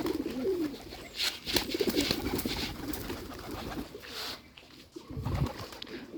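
Bombay Don pigeons coo softly and steadily close by while feeding, with light fluttering and shuffling sounds in the background.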